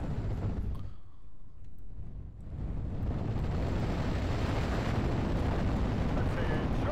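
Explosions and mortar fire in the World War II strategy game Steel Division: Normandy, heavy rumbling blasts that build into a continuous loud roar, with a voice talking over them.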